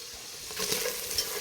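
Beef pieces and vegetables frying in a hot pan for beef bourguignon, giving a steady close sizzle with a few brief louder crackles and stirring scrapes, with no one talking.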